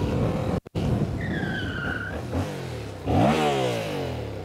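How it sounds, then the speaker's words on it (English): A Yamaha MT-07 motorcycle with ABS switched off skids on a locked rear tire, a rising squeal over steady engine and road roar, followed by a surge of engine noise. "I could lock the tire without any problems and the ABS is still turned off"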